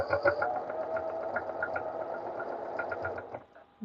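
A sewing machine stitches a fabric scrunchie tube with a steady, close mechanical whir and rapid needle chatter that runs without pause for nearly four seconds, then slows and stops.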